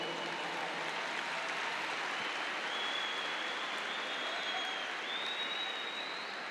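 A church congregation applauds during a worship service: dense, steady clapping fills the whole stretch at an even, fairly loud level, with no voices standing out.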